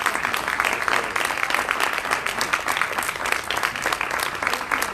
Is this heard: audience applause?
yes